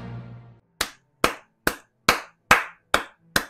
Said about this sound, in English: we have to clap that one.